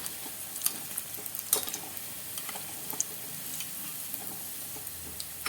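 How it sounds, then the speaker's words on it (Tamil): Urundai balls deep-fry in hot oil at medium flame, giving a constant soft sizzle dotted with sharp crackles and pops. "இப்போ இது வந்து ஒரு பக்கம் நல்லா பொறிஞ்சு வரட்டும்"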